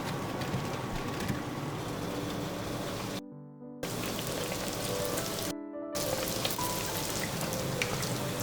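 Baursaks, Kazakh fried dough, deep-frying in hot oil as more hot oil is ladled over them, a dense, steady sizzle like rain, cut off by two brief silent gaps.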